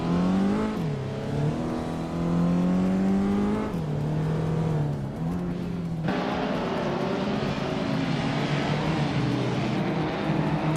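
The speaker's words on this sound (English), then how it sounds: "is driving the 1985 Peugeot 205 Rally, a classic group in car" The 1985 Peugeot 205 Rally engine in a racing video game, a loud, continuous drone that holds steady, dips briefly as gears change and then carries on.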